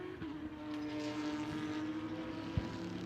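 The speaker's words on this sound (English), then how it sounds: "That Mustang, I think, has got a problem. It sure does. Yeah, that doesn't sound like it's running quite correctly." Mustang race car with an engine problem running roughly during an endurance race at Watkins Glen, a distant steady engine drone with a faint uneven tone and a brief click.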